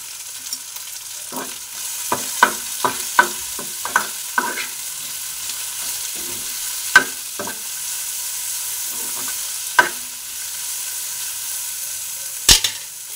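Chopped tomato and coriander leaves frying in a pan with a steady sizzle, while a spoon stirs and scrapes in irregular clusters of clinks and scrapes, then sparser taps later on.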